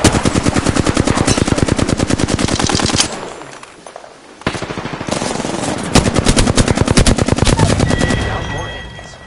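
Rapid automatic gunfire from a shooter video game, loud and continuous bursts of evenly spaced shots with a short pause near the middle before firing resumes.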